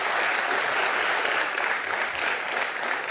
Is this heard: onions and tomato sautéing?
no